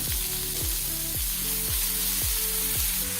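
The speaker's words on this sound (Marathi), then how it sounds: "ते मऊ होईपर्यंत चांगले परतून घ्यायचे" Chopped tomatoes sauté with a little salt in a hot pan, a constant loud close sizzle with a repeating low rhythmic pattern underneath, and no voices.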